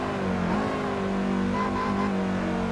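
A race car engine in Assetto Corsa screams near redline during a league race, a steady high-pitched whine that briefly dips and climbs again as the gears shift, loud and alone with no talk.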